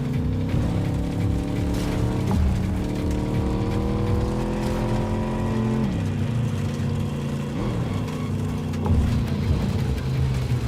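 The Beast, a Cyberpunk 2077 car, tears off-road through brush and a cavern, its engine a loud continuous roar with revs climbing in steps, a sharp drop, then surging again.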